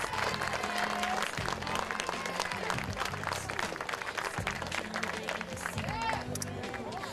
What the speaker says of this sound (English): Students, please give your families and friends a round of applause.